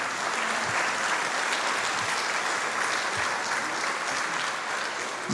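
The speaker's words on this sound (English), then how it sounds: "Can we just get a big round of applause for this overturning of Roe v. Wade that might be coming?" An audience at a Republican governor candidates' forum in St. Clair County, Illinois applauds, a continuous wash of many hands clapping at moderate distance, sustained and even for several seconds with no voices on top.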